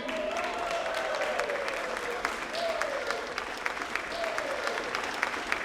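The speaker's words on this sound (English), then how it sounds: "Another round of applause for these two." Steady applause for two award-winning students at a ceremony, a continuous wash of clapping with a few sharper individual claps and a voice faintly heard over it.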